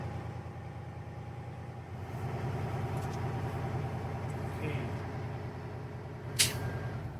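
A truck engine idles steadily at about 1200 RPM, a low, even rumble held quietly and continuously, with a brief sharp hiss near the end.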